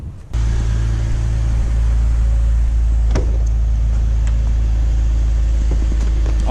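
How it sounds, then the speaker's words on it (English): A BMW E46 car's engine starts after heater control valve work, a sudden loud start settling into a steady, close idle rumble with a few faint clicks over it. "We'll start up the car, see if it works"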